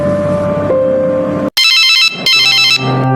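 A telephone rings loudly in a rapid electronic warble, two bursts separated by a short gap, with a tonal hum underneath at the start, while calling a friend in the village.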